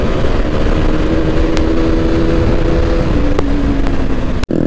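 Motorcycles and cars, including a KTM RC390, roar past loudly and close on a town road in Durgapur, with steady engine noise, rising revs and a brief sharp clunk near the end.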